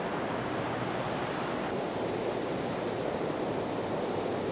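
Mountain stream rushing through a valley in Germany, a steady, dense broadband roar of flowing water that holds close and loud without pause, no voices.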